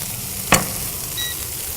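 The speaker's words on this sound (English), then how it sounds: "So popping the onions in the pan, they've got flour, salt, and pepper on the onions" Flour-coated onions with salt and pepper sizzle in a pan, with a steady frying hiss and one sharp scrape or stir near the start.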